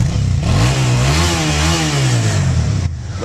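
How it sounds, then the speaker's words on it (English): Suzuki Gladius 650 twin-cylinder motorcycle engine with standard exhaust revving up and easing back, a loud close, lumpy rumble that climbs in pitch and then falls, with no talking. "get on a twin, compared to a inline 4 or V4, obviously it sounds very different."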